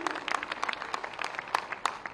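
Audience applause at a statue unveiling ceremony on a death anniversary, scattered distinct claps fairly faint and distant, steady through the moment.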